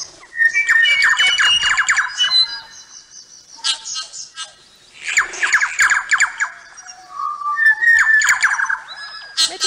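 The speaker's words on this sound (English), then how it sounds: "That one is the korimako, the New Zealand bellbird." A New Zealand bellbird, or korimako, sings loud, close phrases of bright chirps, squawks and ringing whistled notes in three main bursts separated by short pauses.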